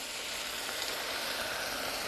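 A pan sauce of chicken stock, apple cider reduction and veal stock reducing on the heat, giving a steady, even bubbling sizzle with no pauses or talk.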